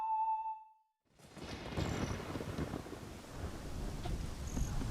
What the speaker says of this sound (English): give me some of that rain